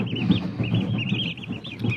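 Small chicks and a duckling huddled in a basin under a heat lamp, giving repeated close high peeping calls in quick bursts over a low soft rumble.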